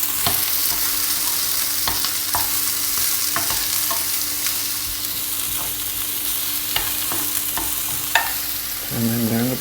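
Steak frying in a pan on a home stove, a steady broadband sizzle with occasional crackles and spatters, loud and continuous throughout, with a brief clatter near the end.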